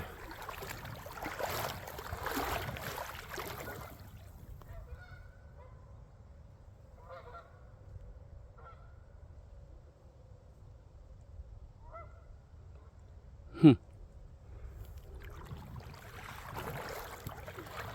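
Geese near a creek close to the Mississippi River near Perryville, Missouri give a few soft distant honks, then one sharp loud honk stands out over quiet background rustle, with no talking.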